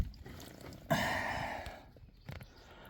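A short burst of water pouring out of a leaking 2007–2017 GMC Acadia or Chevy Traverse near the blower motor, splashing, loud at first then fading into a trickle, with a brief clatter afterward.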